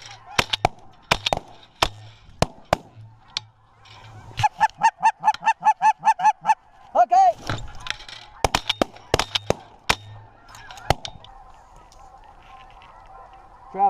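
Geese and other waterfowl honk repeatedly during a hunt, bursts of rapid calls, some loud and close, mixed with sharp gunshot-like cracks and quieter honking in between.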